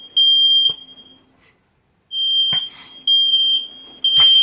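A smoke detector alarm going off in a hut, sounding as loud, piercing electronic beeps in repeated bursts separated by short silent gaps, with no voices.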